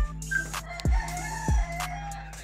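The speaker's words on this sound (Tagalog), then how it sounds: "nandun na yung ibon ng ano, ng Kiko Kamarin" A gamecock crows loudly and close by at a house-to-house street fight. The crow comes in two or three drawn-out calls, with other fowl faintly in the background.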